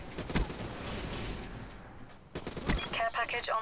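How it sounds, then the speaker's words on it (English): Video game gunfire in an online shooter match: rapid bursts of automatic fire and scattered single shots at moderate distance, fairly quiet, with players talking over parts of it. "almost shot you, Riley."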